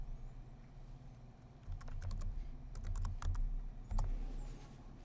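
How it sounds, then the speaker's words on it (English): Keystrokes on a computer keyboard as a command is typed into a terminal, a run of light clicks in quick irregular bursts, close by over a low steady hum, with no voices. "if you type ifconfig"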